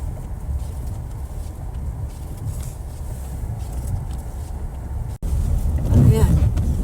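A car drives downhill on a snowy mountain road during a New York snowstorm, its steady low engine and road rumble filling the scene with wind noise, briefly cutting out before swelling louder near the end.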